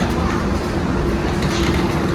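A train rumbles past up close, a loud steady roar of wheels and carriages filling the whole clip with no pauses and no voices.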